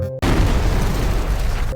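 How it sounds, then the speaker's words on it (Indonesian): Hydrogen explosion at Fukushima reactor 1, a sudden loud boom that bursts in after a brief silence and rolls on as a sustained low rumble of blast and falling debris before cutting off. "reaktor 1 meledak, atapnya copot, puing berserakan."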